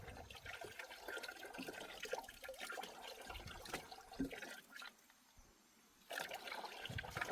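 Water splashes and trickles as a pesticide bottle is rinsed out, sloshing in uneven bursts with a brief quieter pause before the pouring resumes.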